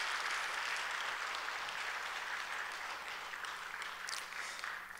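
Applause from a church congregation during a Wednesday service, steady and diffuse, heard as a fairly faint, continuous wash of clapping.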